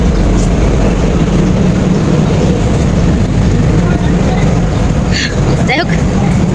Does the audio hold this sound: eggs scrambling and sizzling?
no